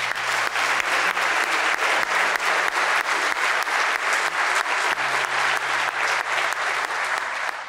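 Audience applause for the host at a public speaking competition: a dense, steady wave of clapping from a sizable crowd that stays loud and even throughout.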